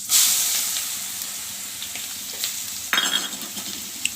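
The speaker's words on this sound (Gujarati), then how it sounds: "વઘારી રહ્યા છે મારા મમ્મી પાત્રા." Patra, a Gujarati colocasia-leaf roll, being tempered in hot oil with curry leaves by a mother, giving a steady near sizzle and hiss with a sharp burst of crackling partway through as something drops in.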